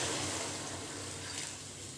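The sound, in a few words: pouring boiled hot water into a cooking pot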